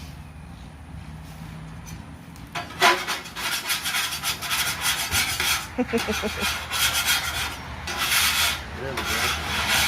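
A metal scraper rasps sausage grease across a hot griddle in short, uneven strokes, loud and close, with a brief remark spoken near the start.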